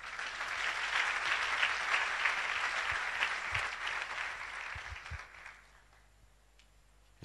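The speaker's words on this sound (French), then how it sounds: "Acclamons cette parole." Church congregation applauding together, a dense steady clapping that holds for several seconds before fading out into quiet room tone.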